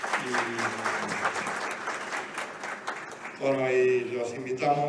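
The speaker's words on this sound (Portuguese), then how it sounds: "um aplauso para eles." An audience at a BGP routing security (RPKI, Krill) workshop claps for the instructors, a moderate ripple of applause that swells near the end, with a voice speaking over it.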